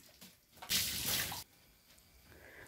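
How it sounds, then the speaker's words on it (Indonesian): Water gushes onto a soaped motorbike as it is rinsed, a bright hissing splash lasting under a second between quieter dripping and handling noise. "sudah disabun kita siram pakai air"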